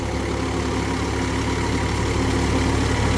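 Mahindra Yuvo 475 DI Tech plus tractor engine running steadily during field puddling work, giving a continuous loud diesel drone with a low throb and no speech over it.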